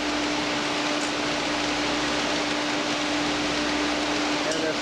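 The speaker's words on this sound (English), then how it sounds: "We have some of the air knives now." Air knives blasting steady compressed air over parts in a Niagara carousel industrial parts washer and dryer, a loud, continuous broadband hiss with a constant hum beneath it.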